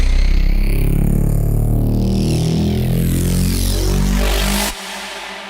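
Synthesized FM bass in Ableton Operator, a loud sustained low drone with rising pitch sweeping up through a build-up, bright harmonics climbing, then cutting abruptly near the end to a quieter tail.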